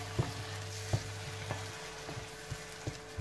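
Grated tomato sofrito cooking in a pan, a steady sizzle punctuated by about seven evenly spaced knocks and scrapes of a spoon stirring, close and without speech.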